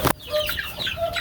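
Young chicks in a backyard brooder cluck and peep in a brief, close burst of several overlapping high calls, with no talking.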